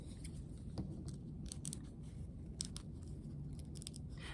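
Scissors snipping through felt along a taped-on jagged collar pattern for a craft elf, a series of soft, close, irregular cuts over low background hum, with no talking.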